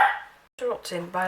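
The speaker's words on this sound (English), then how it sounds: "that woof woof in the background" A dog barks once in the background at the start, muffled and somewhat distant, and a voice then talks over the rest of the moment.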